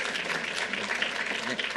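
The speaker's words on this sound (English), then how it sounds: "That's a good applause line." Audience applause following a line in a governor's speech at a gun safety announcement, a dense, even burst of clapping from the room with faint voices mixed in.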